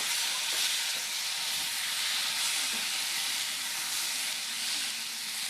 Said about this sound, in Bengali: এবারে এর মধ্যে 1 চামচ আদা জিরে বাটা দিয়ে দিলাম